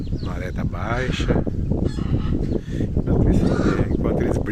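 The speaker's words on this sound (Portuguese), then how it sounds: "Enquanto eles brigam, a gaivota come." Seagulls squabble at low tide on the shore, loud harsh overlapping squawks and honking calls in quick bursts close by, with people talking over them.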